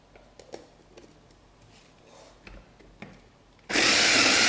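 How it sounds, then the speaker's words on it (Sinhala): A kitchen blender starts up loud and whirring to blend roughly chopped tomatoes, a sudden steady roar after a few quiet taps and knocks. "මම දැන් මේක හොඳට බෙන්ඩර් කරගන්නවා."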